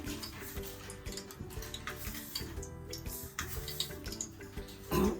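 Mustard seeds dropped into hot ghee in a pan for khara pongal, giving a faint, steady sizzle with quick ticking pops and light clinks of the pan.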